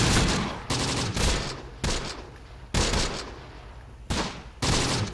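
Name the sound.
anti-tank gun firing HE rounds, Close Combat: The Bloody First video game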